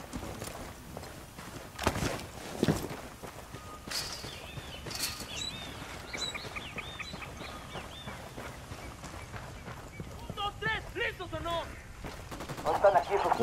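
Gunfire in the tactical shooter Ghost Recon Wildlands: several sharp shots and short bursts, with a couple of loud cracks near the start and more firing toward the end, under in-game radio chatter and ambient noise.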